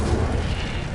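Incendio fire spell cast in Hogwarts Legacy, a loud, continuous booming burst of flame with heavy low rumble that fills the whole short moment without pause.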